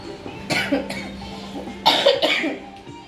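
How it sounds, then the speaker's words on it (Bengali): Two bursts of coughing from a person with a cold, one early and one later, each a couple of sharp hacks indoors with a faint steady hum beneath. "এত কিছুর মধ্যে আমার ঠান্ডা লেগেছে কাশি"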